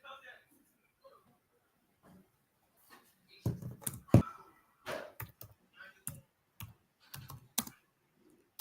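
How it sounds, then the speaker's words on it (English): Keyboard typing on a computer during a live forex trading session, heard as scattered bursts of clicks after a quiet start, with a voice talking over parts of it. "Let me type out the coordinates."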